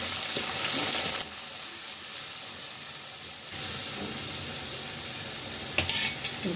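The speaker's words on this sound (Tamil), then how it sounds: "இப்போ தக்காளி போட்டுக்கலாம்." Tomatoes sizzling as they are sautéed in a pan with garlic and curry leaves, a steady close frying hiss that cuts to a quieter simmer and then swells again, with a brief stir near the end.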